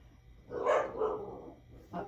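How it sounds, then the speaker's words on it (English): Dogs bark outdoors, heard faint and somewhat distant: one drawn-out bark followed by a shorter second bark. "there's some dogs outside"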